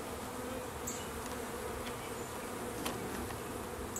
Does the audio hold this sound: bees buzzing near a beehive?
yes